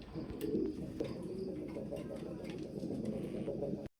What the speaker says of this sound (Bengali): একজোড়া হাই কোয়ালিটি সম্পূর্ণ একজোড়া মুন্ডি কবুতর দিয়ে